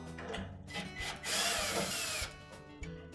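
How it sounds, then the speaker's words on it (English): A power drill backs out screws securing a console to the front of a cabinet: a loud, close whirring burst of about a second, surrounded by quieter clicks and handling bumps. "So our next step, remove these 2 screws in the top."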